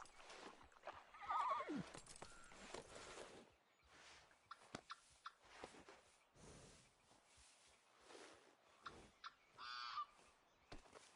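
A horse whinnies twice in Red Dead Redemption 2, a loud neigh near the start and a shorter one near the end, with clip-clop hooves, other game sounds and a honking goose-like call between.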